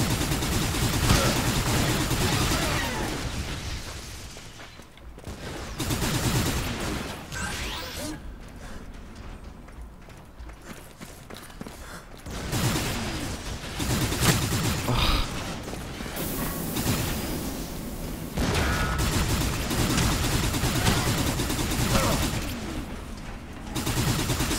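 Gunfire from a first-person shooter video game, Hard Reset, with bursts of shots and mechanical clatter running through most of the stretch, easing off briefly in the middle before returning loud and dense.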